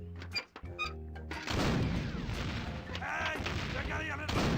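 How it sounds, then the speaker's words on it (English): A self-loading cannon fires in The Curse of Monkey Island adventure game, with a short thud early on followed by a long, loud, roaring blast and crackling rumble that fills the rest of the moment. "Hey, it's one of those new self-loading cannons I've heard so much about."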